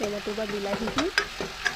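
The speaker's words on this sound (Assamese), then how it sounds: "সেইখিনি পূৰা এনেকৈ লৰাই থাকিব যিমান টাইমলৈকে বিলাহীখিনি" Tomatoes stirred in a kadai for a dhaba-style paneer masala curry, a spoon scraping and clattering in quick irregular strokes over a steady close sizzle, with a few sharp metallic taps.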